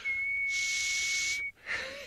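A person whistles a single sustained, thin, clear note close by for over a second, then a breathy hiss and a short rising whistle follow after a brief gap.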